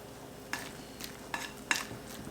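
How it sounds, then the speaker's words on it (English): A fork scrapes and taps inside a bowl while stirring a chocolate cake batter made without eggs, butter or milk, giving four or five soft, separate clicks and scrapes, close by and quiet. "So they say stir it with a fork"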